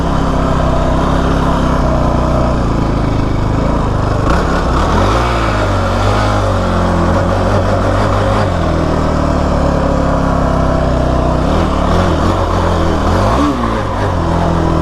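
A Kawasaki KFX 450R ATV on its first ride, engine droning loud and close throughout, with repeated rises and falls in revs as the throttle opens and eases while the rider slides on loose ground.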